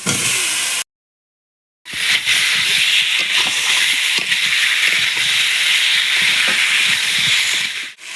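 Boiled potatoes poured into a hot pan for aloo dum, a loud steady hissing sizzle after a brief silent break, continuing close and even with faint clinks under it.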